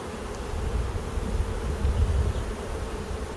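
Honeybees being split from a double nuc into smaller nucs hum in a dense, continuous drone close by, steady and fairly loud with no talking.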